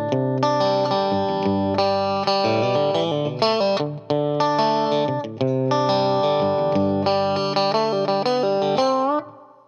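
Electric guitar plays the riffs from the lesson back to back, bright picked notes and chord stabs in a steady, loud rhythm with brief gaps between phrases and a final ringing chord.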